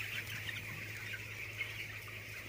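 Broiler chickens, sixteen days old, cluck in a poultry house, a steady dense chorus of chirping calls over a constant low fan hum, with no talking.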